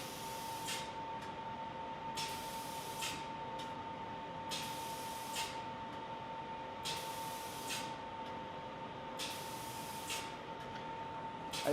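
A robotic spray gun painting alloy wheel spokes gives repeated bursts of spraying hiss at a steady, regular rhythm over a constant mechanical hum, each spray lasting about a second.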